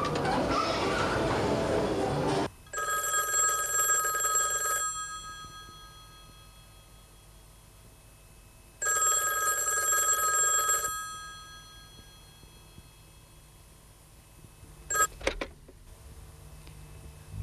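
A telephone bell rings in two loud bursts, each lasting about two seconds, separated by a long quiet gap, with a few brief knocks or clicks near the end.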